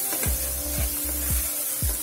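Chopped onions frying in a pan for chole masala, a steady broadband sizzle with a few soft stirring scrapes at regular intervals, close and alone.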